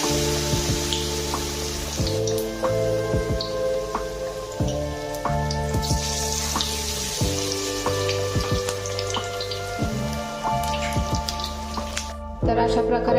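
Constant bubbling crackle of patties deep frying in oil, heard beneath a background of steady tonal music that shifts pitch every couple of seconds.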